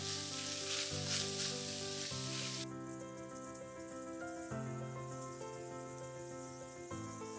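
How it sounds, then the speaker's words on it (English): Minced pork frying in hot oil for a miso garlic pork dish, a steady close sizzle that carries on throughout alongside a soft background hum. "Break up your minced pork as you fry it."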